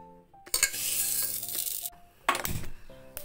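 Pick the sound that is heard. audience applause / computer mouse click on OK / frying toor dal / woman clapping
frying toor dal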